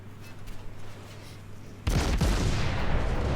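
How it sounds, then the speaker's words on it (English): Naval guns of the cruiser Admiral Hipper fire a barrage in World of Warships: a quiet stretch, then a loud booming volley that breaks in suddenly and rumbles on in heavy overlapping blasts. "keep up the barrage on the Tirpitz"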